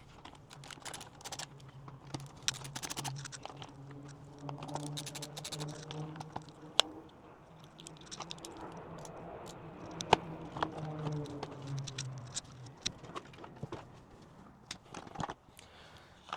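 Small clicks, taps and scraping of plastic and screws come from removing the fog light module on a Subaru WRX, close and quiet, scattered irregularly with faint background hum.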